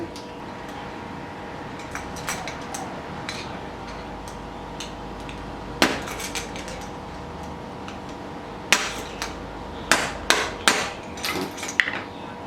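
Metal tapping while a bearing is knocked out of an O.S. two-stroke model engine: sharp, close clicks and hammer knocks, sparse at first, then a cluster of louder strikes near the end over a steady low hum.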